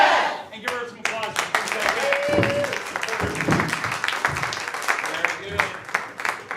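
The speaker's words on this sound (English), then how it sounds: "And give her some applause." An audience applauds an improv comedy player named Beth during a live tournament show, a steady crowd clapping running under loud speech and cheering voices throughout.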